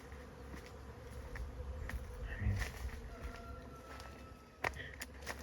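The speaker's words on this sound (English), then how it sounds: "That is a super lot of bees up there." A dense, steady insect buzzing fills the air, a swarm of bees droning continuously with a few faint knocks and rustles nearby.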